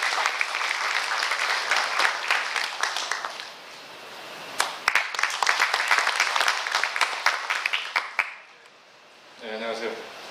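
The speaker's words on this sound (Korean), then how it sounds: "여러분 뜨거운 박수로 환영해 주시기 바랍니다" Audience applause at a Korean public briefing welcomes Gangwon State's economic vice governor to the stage. Dense, loud clapping fills most of the span, dips briefly, then fades out, with a short voice at the very end.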